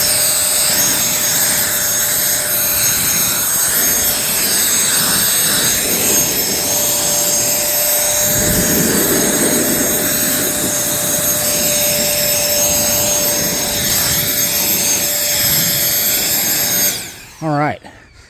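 A cordless leaf blower used to dry a car gives a steady, loud, near whoosh with a constant whine for most of the stretch, then cuts off abruptly near the end as it winds down.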